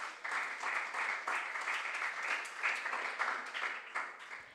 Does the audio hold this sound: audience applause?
yes